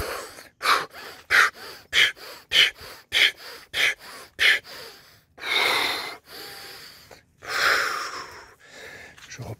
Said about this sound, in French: j'ai accéléré la respiration pour prendre de l'air